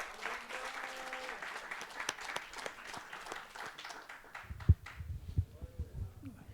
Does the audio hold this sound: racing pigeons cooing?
no